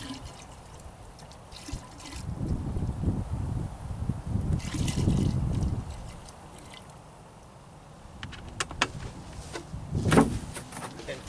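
Diesel fuel, about half a gallon, pours into a container in bursts of splashing liquid, louder in two stretches with a quieter gap between, and a few sharp knocks near the end.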